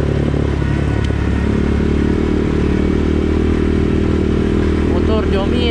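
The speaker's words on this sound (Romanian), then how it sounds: "Eu trebuie să mă duc cu accelerația la full, de unde el urcă la relanții" A V-twin ATV engine is held at full throttle beside a single-cylinder ATV, a loud, steady, close-up roar with rattling clatter that continues unbroken throughout.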